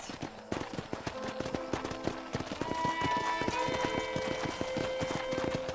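Horse hooves clip-clop in a steady, fast rhythm in the Red Dead Redemption video game, close and continuous under a soft musical score.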